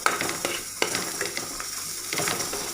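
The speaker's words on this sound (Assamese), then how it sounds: "এতিয়া আমি এইখিনি অলপ সময় লৰাই ভাজি থাকিম" Jackfruit seeds being stir-fried with browned onions in a pan, a steady close sizzle broken by repeated scraping stirs of the spatula, with no talk.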